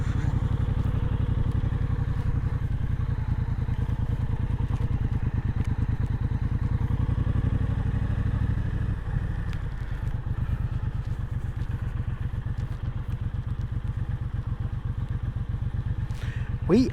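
A motorcycle engine runs steadily throughout a ride, a close, even low rumble with faint clatter and a slight dip in level partway through.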